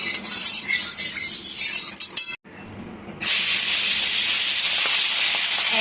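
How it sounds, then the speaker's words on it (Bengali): A fish head is dropped into hot oil and erupts into a loud, steady broadband sizzle after a brief quieter moment, following lighter clinks and scraping of kitchenware. "তেলটা গরম হয়ে গেছে, এবার মাছের মাথাটা ভেজে নেব।"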